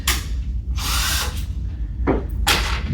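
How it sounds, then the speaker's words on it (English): Power drill bursts during assembly of an Atomi e30 electric scooter: several short whirring runs starting and stopping close by, separated by brief pauses, with no talking. "cheating this time and breaking out power tools"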